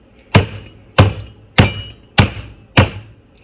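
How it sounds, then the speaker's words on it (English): Meat being beaten with a tenderizer on a board, five heavy evenly spaced thuds about half a second apart, close and loud. "you do want to beat it to make it tender"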